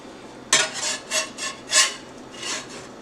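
A deluxe grilled cheese sandwich is flipped in a pan, heard as a few close, rasping scrapes and shuffles of a spatula against the pan surface, with short pauses between them.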